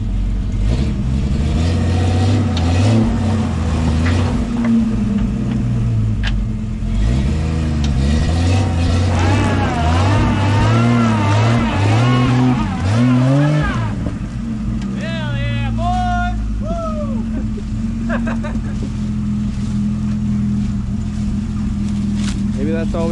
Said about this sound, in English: the two tires that aren't on the ground are the ones spinning